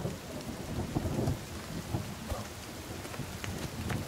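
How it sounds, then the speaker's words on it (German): Rain and thunder in the survival video game The Forest: a steady hiss of rainfall on surfaces with low rumbling thunder rolling underneath, fairly quiet and continuous with no voices. "Es regnet."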